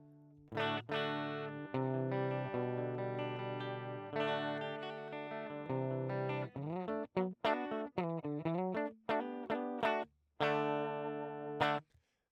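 Electric guitar playing sustained chords and then short picked notes through a clean amp model on a Fractal Audio AX8 with a 1x6 oval speaker, a bright, clean amplified tone with brief pauses between phrases.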